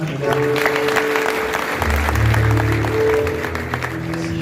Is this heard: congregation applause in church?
yes